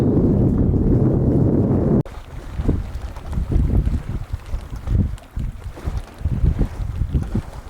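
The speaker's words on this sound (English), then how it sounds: "Got 10 knots of wind, not from the perfect direction. I'm having to tack my way north, but at least I'm sailing." A sailboat tacks north in ten knots of wind off the Outer Hebrides, heard as gusty wind buffeting the microphone, with water rushing and slapping against the hull in uneven surges close by.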